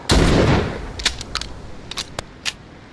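A single loud shotgun blast in a Walking Dead zombie shooter game, booming close up and then decaying, followed by several quick mechanical clicks and clacks of the weapon being handled.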